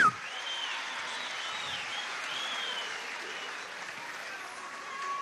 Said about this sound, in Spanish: Vamos a darle un aplauso a Silvia, la primera combatiente de la República.